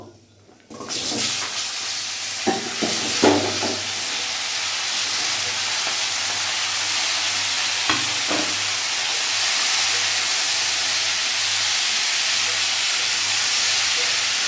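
Mixed vegetables tipped into hot oil for a Bengali labra, giving a steady, loud sizzling hiss that starts abruptly and carries on evenly throughout with a few sharper crackles early on.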